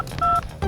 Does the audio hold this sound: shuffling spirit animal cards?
no